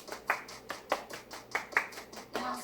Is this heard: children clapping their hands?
yes